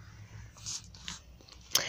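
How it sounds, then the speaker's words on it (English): A baby bites and chews on a phone held up close, giving soft wet gnawing and mouthing sounds followed by a sharp click or clack near the end, with faint background hum. "don't be chewing on my phone"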